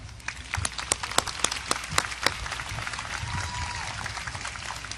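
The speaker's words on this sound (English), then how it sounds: "Can we please give them a hand?" A commencement audience claps for graduates' families, with scattered sharp hand claps at first, then a steady, moderately loud wash of applause that fills the rest of the span.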